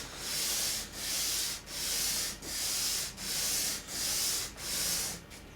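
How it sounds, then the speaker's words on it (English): A guitar nut for a Gibson is rubbed back and forth on a sheet of sandpaper, giving seven steady, close rasping strokes in an even rhythm with short gaps between them, and no voices. "we're going to just run it backwards and forwards on this piece of sandpaper to try and take some height off"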